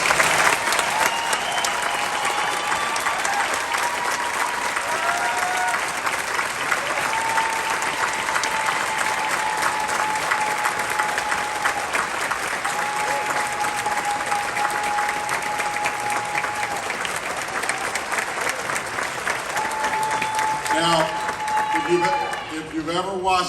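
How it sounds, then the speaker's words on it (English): A long, sustained round of applause fills the Illinois House of Representatives chamber during an inauguration, steady and dense throughout, with some cheering voices on top and a few isolated claps as it tapers at the end. "Let's give the first woman ever elected to lead a House caucus a well-deserved round of applause."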